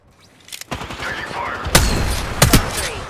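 Gunfire in the Apex Legends battle royale game, with sharp broadband shots and a heavier burst of fire near the middle and end, loud and close, over a busy game soundscape with a voice speaking briefly.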